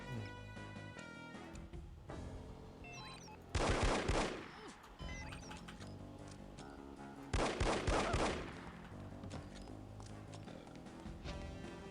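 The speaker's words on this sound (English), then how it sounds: "The guy shot them." Gunfire in the video game No One Lives Forever: two loud bursts of rapid shots a few seconds apart, each about a second long, over a steady game music and ambience bed.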